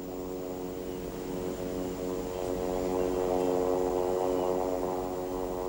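A Hercules propeller aircraft taxis toward the runway on Midway Island, giving off a loud, steady droning buzz with a layered engine hum that swells slightly toward the end.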